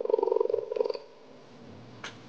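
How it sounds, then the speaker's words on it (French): A cheetah's low, rhythmic purr rumbles steadily up close for about a second, then fades into quiet background with a faint click. "T'as vu comment il ronronne?"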